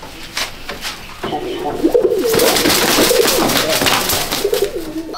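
Fancy Loton pigeons in a loft coo in repeated soft, throaty rolling calls, close and clear, building in density over a few seconds with faint background noise.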